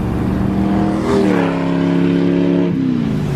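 A Ford GT racing car engine roars loudly nearby, its pitch climbing sharply and then holding at a high, steady snarl before easing off.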